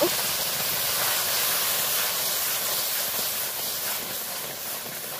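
Boiled taro and spinach greens being stirred in a hot pan give off a steady, loud steam hiss that holds evenly for the whole stretch, with no talking.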